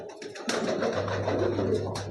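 A pigeon gives a low, soft, sustained coo close by, heard alone over light background noise.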